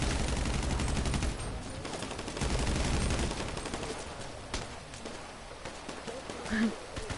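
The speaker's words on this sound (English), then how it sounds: "Why are you shooting at me?" Rapid gunfire bursts from a GTA 5 shootout, dense and loud in the first half and thinning to scattered shots, mixed with voices talking over the action.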